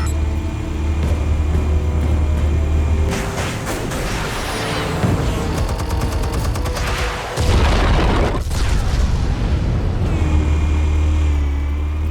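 Explosives detonate in the Batman Telltale video game, a heavy booming blast rolling over a continuous low rumble and game music, with crackling debris and a second surge of noise that holds loud for several seconds.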